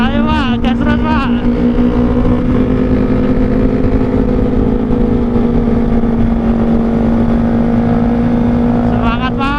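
A Kawasaki ZX25R motorcycle fitted with an R9 Zeta exhaust revs continuously and loudly, its steady high-pitched engine note sustained throughout, with voices shouting briefly over it.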